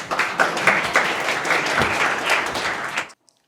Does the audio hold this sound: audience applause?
yes